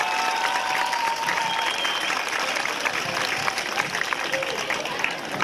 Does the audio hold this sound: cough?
no